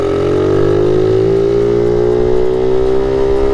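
1978 Honda Z50 Monkey minibike engine revving hard, a loud, close buzzing whine climbing steadily in pitch over a few seconds with no talk.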